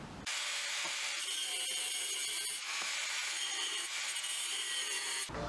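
Handsaw cutting through wood at a 10-degree angle to make splayed stool legs for a workbench stool, a steady run of rasping back-and-forth strokes, close and loud, continuing without pause for several seconds.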